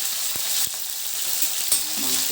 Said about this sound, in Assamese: মাংসটো লৰাই দিম।